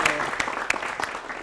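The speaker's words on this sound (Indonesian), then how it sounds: "Silakan kembali tepuk tangan dulu." Audience applause at a school pantun exchange event at SMK Muhammadiyah 3 Palembang, a brief burst of dense clapping with a few sharper claps, fairly close and steady, with faint voices mixed in.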